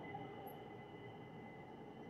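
Steady low rumble and rattle of the Circar Express train rolling along after departing Kakinada Port, a continuous even drone heard from inside with a faint high squeal, no talking.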